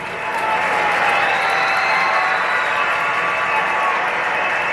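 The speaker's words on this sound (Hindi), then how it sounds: "तो हम चाहेंगे हमारे मैम के लिए भी जोरदार ताली" Loud, sustained applause from a school audience for teachers, a dense continuous wash of many hands clapping close by, with a faint whistle-like tone drifting over it.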